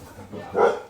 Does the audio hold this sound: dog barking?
yes